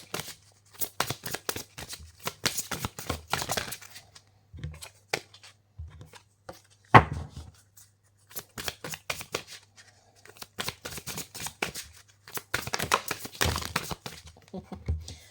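Tarot cards are shuffled by hand in short, crisp riffling bursts, close and fairly quiet, separated by brief pauses and one sharper snap midway.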